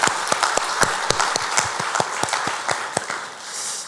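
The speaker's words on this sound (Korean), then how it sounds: "봉사해 주신 봉사자들 감사하며 박수하겠습니다." A church congregation at a Sunday service claps together for volunteers, with dense, sustained applause punctuated by sharp individual claps that fade toward the end.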